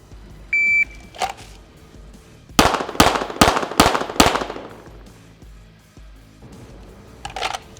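In a law enforcement pistol drill in Ohio, a short electronic beep comes first, then five quick, loud, close gunshots in a tight string with ringing tails, followed by quiet.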